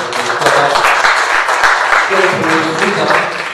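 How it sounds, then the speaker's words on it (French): Loud, dense audience applause at an entrepreneurship panel event, a continuous roar of many hands clapping close by, with some voices mixed in beneath. "je pense qu'on peut applaudir ça bien fort"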